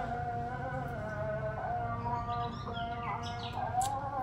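Birds chirping outdoors with a rooster's call among them, brief tweets and calls scattered over a steady background hum.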